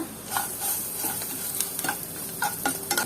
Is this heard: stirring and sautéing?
yes